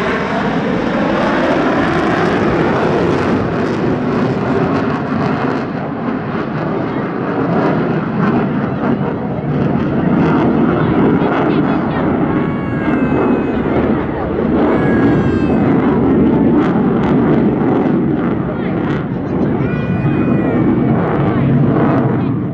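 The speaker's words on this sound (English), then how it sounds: "Su-30 is by far the most modern and advanced combat aircraft in the RMAF's inventory." Sukhoi Su-30 fighter jet flying a display at the LIMA Langkawi 2023 airshow, a loud continuous roaring engine wash that swells and holds, with whistling engine tones rising and falling overhead.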